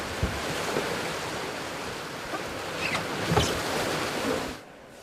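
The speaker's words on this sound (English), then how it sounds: "This kind of river surfing is caused by a high volume of water rushing over an object to create a wave." A high volume of river water rushes over an object to form a standing surf wave in Abingdon, England in February, giving a steady, close, broadband roar with wind buffeting the microphone and a few brief splashes, ending in a sudden drop near the end.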